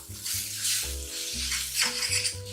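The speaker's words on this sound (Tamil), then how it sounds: "மிளகாய்த்தூள், மல்லித்தூள், மஞ்சள் தூள், பெருஞ்சீரகத்தூள், கரம் மசாலா எல்லாம் ஆட் பண்ணி மிக்ஸ் பண்ணி விட்டுடலாம்." Spice powders of chilli, coriander, turmeric, fennel and garam masala being stirred in a hot pan for pea kurma, a steady close sizzle with scraping spoon strokes, no talking.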